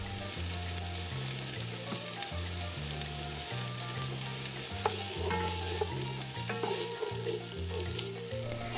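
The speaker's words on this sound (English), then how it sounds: "Add some oil to a heavy bottomed pot and add some chopped onion in." Chopped onion with oregano and bay leaves cooking in oil in a heavy-bottomed pot, a soft continuous sizzle with rhythmic stirring scrapes, fairly quiet and close, no speech.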